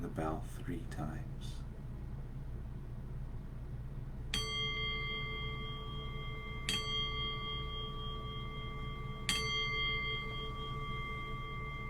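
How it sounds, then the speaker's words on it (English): A meditation bell struck three times at a slow, even pace, each clear ringing tone sustaining and overlapping the next, after a brief voice at the start over a quiet room hum. "I'll cue that by ringing the bell 3 times."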